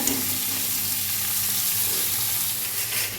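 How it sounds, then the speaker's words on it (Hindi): Tinda masala of ground garlic, ginger, green chili, tomato and onion fries in hot oil, a loud, dense, unbroken sizzle heard close up throughout, with no voices. "और इधर भूनना शुरू कर दिया मैंने टिंडे का मसाला"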